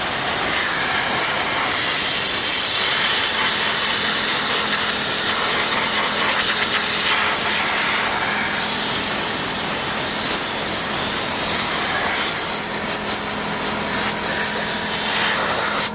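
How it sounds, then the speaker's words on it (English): Compressed air from an air compressor blasts into a car interior around the seat sides and footwell, a loud, close, continuous hiss that rushes and wavers without pause. "Let's hook this up to the air compressor and take it to the sides and underneath this seat"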